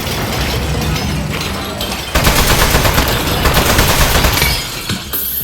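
Automated turrets fire in the video game Aperture Desk Job: loud, sustained rattling bursts of rapid gunfire that intensify after about two seconds and stay dense and continuous until the end.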